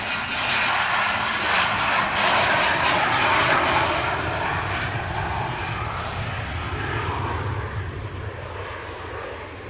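A business jet departing Manchester Airport on a quick hop to Farnborough gives off a broad, loud roar that swells and then slowly fades as it climbs away. There is no talk.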